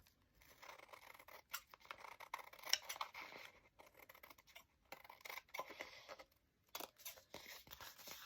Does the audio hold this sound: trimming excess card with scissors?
yes